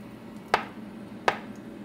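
A knife chops twice through a grilled chicken sandwich on a board, two crisp, close cuts spaced under a second apart over quiet background hiss.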